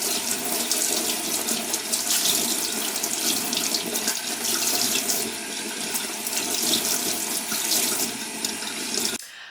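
Water runs steadily from a tap, splashing and sloshing as freshly dyed fabric is rinsed and wrung under the cool stream, with no voices.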